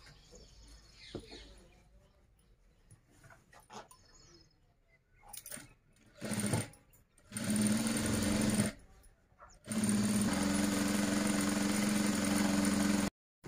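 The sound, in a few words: sewing machine stitching cloth edges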